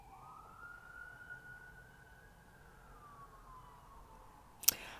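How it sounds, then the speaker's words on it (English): A single emergency vehicle siren wails at a distance in one long, slow, rising and falling sweep, faint against quiet surroundings, ending with a sharp brief click. "Siren."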